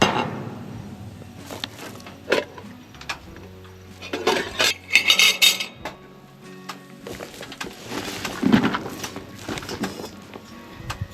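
Cutlery and a frying pan clatter while lunch is cooked outdoors in the Northern Territory outback: scattered metallic clinks, scrapes and knocks come in irregular bursts, close by, with quieter gaps between.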